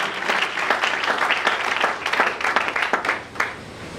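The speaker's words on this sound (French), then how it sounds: "Acclamons très fort pour le Seigneur." A church congregation applauding at a French and Lingala worship service: dense, steady rhythmic clapping from many hands throughout, fairly close and loud.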